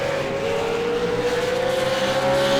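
A race car in a V8 racing game at Bathurst holds a loud, sustained engine whine as it runs past on the track, steady and close with no voices over it.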